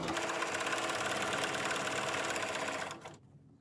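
A sewing machine runs a zigzag stitch over binding on minky fabric, a steady, fast mechanical whir close by that holds for about three seconds before cutting off.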